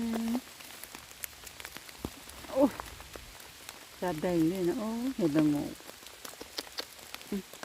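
Heavy rain patters steadily outdoors during mushroom picking, a dense hiss of drops under a voice that speaks in short bursts.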